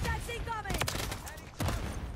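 Gunfire in a video game shooter: a couple of sharp shots stand out, with a louder burst near the end, mixed with game sounds while a player talks over it.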